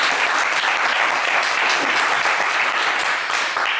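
Loud, steady applause from a television game show studio audience for a contestant, many hands clapping together in a dense continuous roar with no pauses.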